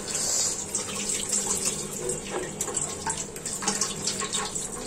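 Tap water runs steadily into a sink while tilapia fish are rinsed, a constant splashing stream with brief louder sloshes from handling the fish, and no voices.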